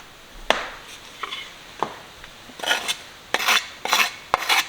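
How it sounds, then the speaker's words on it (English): Parsley being chopped with a knife on a board for crockpot meatballs, a run of sharp scattered chops that grow quicker and denser toward the end, close and fairly quiet with no talking. "I'm chopping it all up and then mixing it all in."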